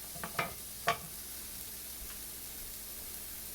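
Garlic and ginger sizzling in a pan for chickpea curry, a soft continuous fry hiss with a few quick stirring clatters near the start, close and quiet with no talking.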